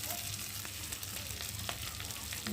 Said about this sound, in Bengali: আর এখন ভেজে রাখা চিংড়ি মাছগুলো দিয়ে দেবো।